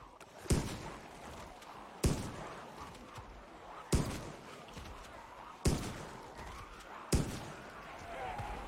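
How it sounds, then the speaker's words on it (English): Shotgun blasts in the zombie survival video game Project Zomboid fire five times at steady intervals of under two seconds, each a loud booming report trailing into a short decay. "I think we're gonna have to bust out the shotgun."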